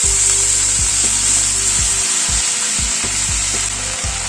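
Water spinach hits hot oil with garlic and sizzles loudly and steadily in the pan, with low thumps of stirring and scraping breaking through at intervals.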